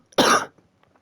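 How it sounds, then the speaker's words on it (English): A single short, harsh cough from a man getting over the flu, close and fairly loud, followed by faint quiet. "Pardon me for all the coughing,"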